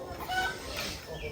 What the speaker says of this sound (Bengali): এত জোরে চিচাচ্ছে মুরগিটা, বন্ধই করছে না